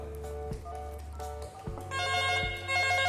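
An analog PABX office telephone rings with a repeating electronic trill, several short bursts in steady rhythm, clear and nearby with a faint hum underneath.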